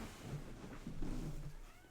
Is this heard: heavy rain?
no